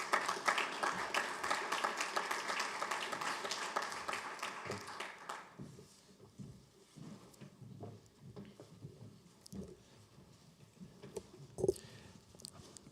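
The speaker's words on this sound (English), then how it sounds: "let's give them a round of applause" Audience applause, dense and loud at first, then thinning into scattered claps that fade over several seconds.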